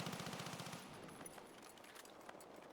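Video game gunfire rattles in a dense, rapid burst of automatic shots at the start and then gives way to scattered, faint pops and clatter at low volume.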